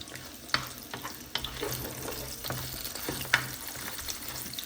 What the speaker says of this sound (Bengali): সেজন্য আমি একদম অল্প হিটে আস্তে আস্তে ভেজে নিচ্ছি।